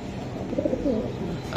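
A Giribaj high-flying racing pigeon coos in a short, soft burst of low rolling notes, close by and alone with no talking.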